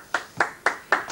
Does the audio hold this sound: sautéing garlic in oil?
no